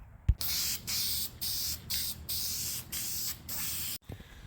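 Dupli-Color fabric paint sprayed from an aerosol can onto the seatbelts of a 1987 Suzuki Samurai, a string of close, loud hissing bursts broken by brief pauses.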